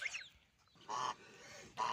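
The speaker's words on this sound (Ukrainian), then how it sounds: "О, гуси так шиплять." Geese hiss in two broad, breathy bursts, fairly close, with a short honk at the start and quiet gaps between.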